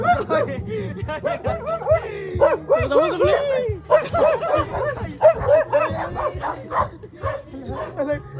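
A dog barking and yipping in a rapid, excited series, close and loud, mixed with people laughing and talking over it throughout.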